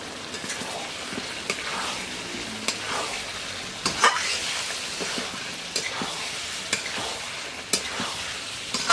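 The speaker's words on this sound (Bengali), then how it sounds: "এবারে আমি ভেজে রাখা আলুটা দিয়ে কষে নেব।" Pre-fried potatoes sizzle steadily in spiced oil with yogurt for a Bengali aloo dum, with a spoon stirring and scraping the pan at irregular moments throughout.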